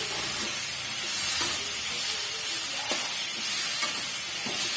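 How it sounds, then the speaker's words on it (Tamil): Ingredients for radish chutney, including tomato, sauté in a pan with a continuous soft sizzle and hiss, punctuated by occasional light stirring clicks, moderately quiet and without speech. "ஜஸ்ட்டு வந்து ஒரு ஒன் மினிட்க்கு நம்ம வதக்கி விட்டுக்கிறதுனாலே போதுமானது"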